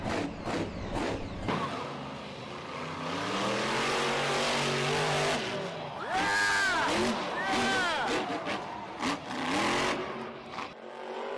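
Monster Jam monster truck at the World Finals revving its engine before launching off the middle ramp, a loud sustained roar that climbs in pitch, with a cheering arena crowd and excited commentators talking throughout.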